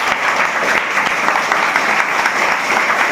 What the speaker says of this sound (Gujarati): જોરદાર તાળીઓ પાડી દો।